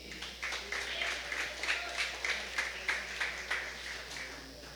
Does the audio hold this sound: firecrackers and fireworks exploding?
no